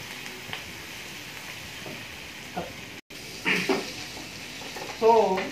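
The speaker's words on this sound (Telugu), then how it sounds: "ఆనియన్స్ మనకి గోల్డ్ కలర్ లేకుంటే గోధుమ రంగు వచ్చేంత వరకు ఇలా మిక్స్ చేస్తూ" Onions frying in oil in a pan for a drumstick and tomato curry, stirred as they brown, giving a steady soft sizzle with scraping stir strokes that swell louder toward the end.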